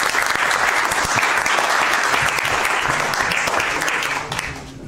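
Hearty applause fills a municipal council meeting chamber during a budget session in Herzliya, dense steady clapping from the room that fades slightly at the end.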